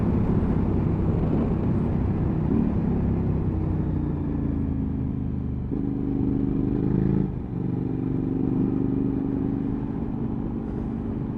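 A Suzuki V-Strom 1000 motorcycle is ridden on the road, its engine droning loudly and steadily with wind rumble, pitch shifting through gear changes, and no voices.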